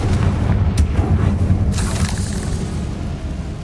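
A Confringo fire spell explodes in Hogwarts Legacy, a loud booming blast that sets off a dense, sustained rumble with a sharp burst near the start and a second surge midway.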